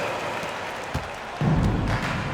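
Arena crowd noise in an NBA basketball video game, Timberwolves at Sacramento Kings, swelling into louder cheering and applause partway through, a steady broad roar with a thud near the start.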